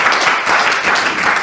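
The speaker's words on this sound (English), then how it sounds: "So give Bill a big round of applause." Studio audience applauding guest Bill Medley on a talk show, a dense steady wash of clapping hands that holds evenly for the whole moment without a break.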